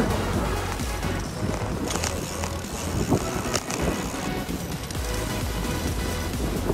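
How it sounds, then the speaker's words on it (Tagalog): Steady, heavy wind buffeting the microphone with a continuous loud rumble and roar, occasional gusts rising above it; no clear voices. "Lakas ng hangin."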